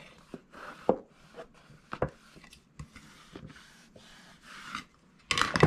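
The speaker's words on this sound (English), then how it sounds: "I'm going to go on the inside with my big old spatula, and I'm pushing the glue this way and this way." A big spatula scrapes and rubs glue around the inside of a paper purse, giving a series of short scraping strokes with soft taps, ending in a louder rustling burst.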